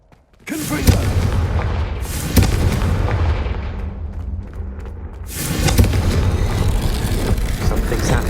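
Confringo fire spells in Hogwarts Legacy blast out with loud booming impacts: one burst opens a long rumbling roar that fades, then a second strong blast brings another sustained roar.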